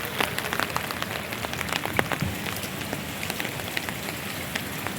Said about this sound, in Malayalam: അങ്ങനെ മഴ പെയ്ത് കുതിർന്ന ഒരു നല്ലൊരു ഈവനിങ്